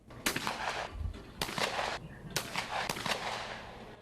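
Shotguns fire at clay targets as a youth team of marksmen shoots together, several sharp cracks a few seconds apart with reverberant tails, fairly faint and distant.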